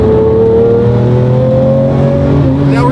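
A 640-horsepower rear-wheel-drive converted McLaren 720 GTR revs loud and close on a wet day, holding a steady droning roar with the engine note slowly rising.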